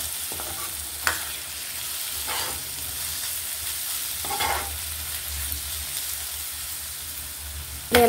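Onions stir-fry in a hot pan for a green chilli egg fry, giving a steady sizzle throughout. A few spatula scrapes and stirring bursts come through clearly, and no one speaks.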